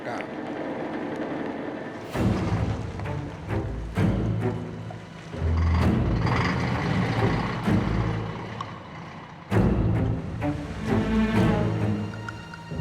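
Old, high-mileage truck on a dangerous mountain road, a continuous rumbling engine with rattling, clanking bursts and surging loudness, heard up close throughout.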